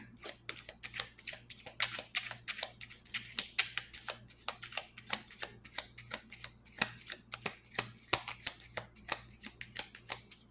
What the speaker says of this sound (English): We'll do one more shuffle, but just to make sure.